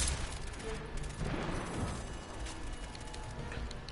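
Bursts of rapid gunfire from the shooter game Destiny crackle through a busy mix, with a denser volley near the middle fading into scattered shots.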